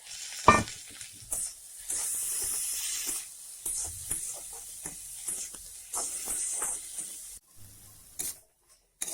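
Papaya flowers and tomatoes frying in a pan, a continuous hissing sizzle with intermittent stirring scrapes and clanks, close up, fading out near the end.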